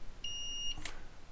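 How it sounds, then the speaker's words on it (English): A multimeter set for continuity testing on a Jawa 90 motorcycle circuit board gives one short, steady high-pitched beep of about half a second, clear and close, followed by a brief click, with no talk. "Get the multimeter to beeping."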